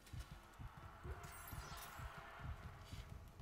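A steady, low thumping heartbeat from the Dead Space Remake game plays in a regular rhythm under a faint ambient hum, muffled and continuous throughout.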